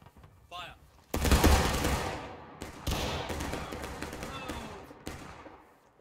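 A company of soldiers fires a musket volley in the War of Rights Civil War game: a loud, heavy burst of rifle fire crackles at once, then echoing shots and battle noise roll on, with voices shouting nearby.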